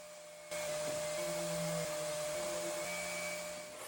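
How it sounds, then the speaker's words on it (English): A power sander with 220-grit sandpaper works red oak hardwood, giving a loud, steady whirring hiss with a faint tonal hum that kicks in after half a second and runs without a break to the end. "a really good sanding with a 220 grit sandpaper"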